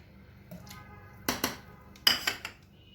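A metal spoon stirs salt, lemon juice, vinegar and chili in a bowl for pickled turnips, making a few sharp, close clinks in two short clusters over a quiet background.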